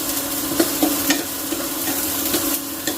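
Frozen green peas and finely chopped carrot stir-fried in a pan, a loud continuous sizzle broken by several light scraping and tapping strokes of a spoon, with no voices.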